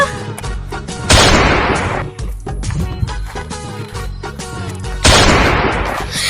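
A toy gun fires in bursts of rapid, crackling gunfire, loud and close, with two especially strong volleys and a steady rattle between them.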